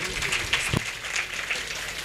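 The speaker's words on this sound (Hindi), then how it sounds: "एक बार इनके लिए प्रेम से ताली और बजाइए।" Audience clapping at a devotional Radhe Shyam gathering, a short, fairly faint patter of applause with a brief louder thump near the middle.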